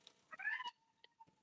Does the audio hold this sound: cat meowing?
yes